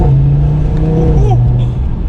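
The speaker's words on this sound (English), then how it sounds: "Those downshifts sound pretty good." Loud, close engine of a 400-horsepower Audi TT RS holding a steady drone, then dropping in pitch partway through as it downshifts, without talk over it.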